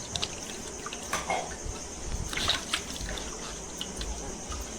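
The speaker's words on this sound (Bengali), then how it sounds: "এগুলো সব আবার ফ্রেশ জলে একবার ধুয়ে নিই" Aquarium parts with a little dirt on them are rinsed in fresh water: a faint, steady trickle and dribble of running water with small splashes, with no talking.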